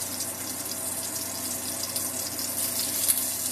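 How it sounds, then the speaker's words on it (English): Tap water runs steadily into a kitchen sink as grease is rinsed off a burned finger after cooking sausage, a continuous close splashing hiss with no talking. "Just wash the grease off my finger."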